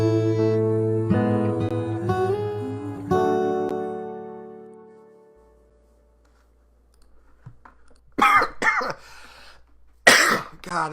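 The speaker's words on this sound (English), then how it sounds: "Non-COVID cough at the end" A single cough, sudden and fairly close, follows a high sung note from a karaoke livestream after a short stretch of near silence.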